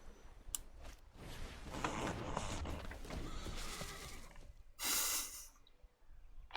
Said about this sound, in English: The horse noise is delightful.